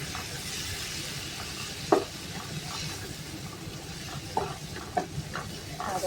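Rice with spices sizzling quietly in a pan, with a steady low frying hiss and a few scattered scrapes and clicks of stirring.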